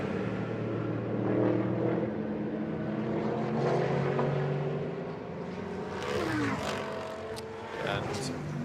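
GT race car crossing the timing line during pre-qualifying at Barcelona, engine drone steady throughout with a pitch sweep near the end as it passes, heard under continuous commentary.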